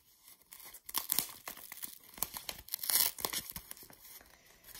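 Paper envelope being torn open up close, a run of crisp ripping and crinkling bursts with brief pauses between tears, fairly loud with no one talking.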